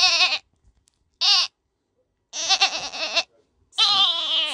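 A person imitates a goat's bleat with a series of nasal, wavering cries, four separate bursts with short silences between them, close and fairly loud with no other sound around.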